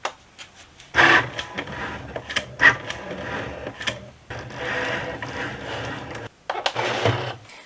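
A Cricut cutting machine scores lines and then cuts cardstock, producing whirring motor runs and mechanical clicks and ratcheting as the carriage shuttles back and forth. It is close and steady with brief pauses.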